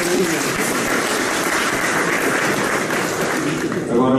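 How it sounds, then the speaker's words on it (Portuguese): Audience applause at a Brazilian public event honoring a new father, a dense, steady wash of clapping that holds at an even, loud level for the whole stretch. "Uma salva de palmas"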